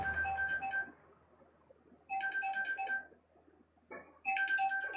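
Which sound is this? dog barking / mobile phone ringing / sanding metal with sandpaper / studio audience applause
mobile phone ringing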